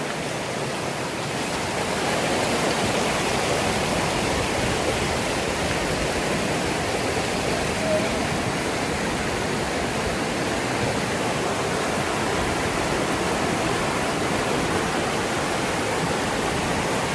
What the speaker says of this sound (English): this is the Wild Cane River.